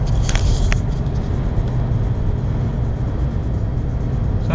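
A Seat Cordoba driving along the road at about 90 km/h, heard as a steady, loud rumble of road and engine noise from inside the car, continuous with no talking.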